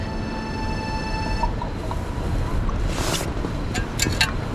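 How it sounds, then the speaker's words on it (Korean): Steady wash of ocean surf with wind noise on a windy, rainy beach on Gadeokdo island at night, a continuous roar close by, with a few sharp clicks near the end. "바닷소리 뭐 들어가나 모르겠네."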